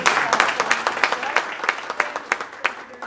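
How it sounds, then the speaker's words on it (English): A small group claps at a school board meeting, with individual hand claps clearly separate in a quick, uneven patter that fades slightly toward the end. "I do want to give them a round of applause."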